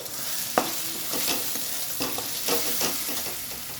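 A paste of poppy seeds and black mustard for a prawn dish hits a hot pan with a soft sizzle, followed by quiet scraping stirs and intermittent bubbling, close and low in level, without talk.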